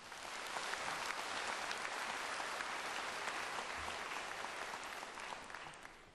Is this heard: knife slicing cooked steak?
no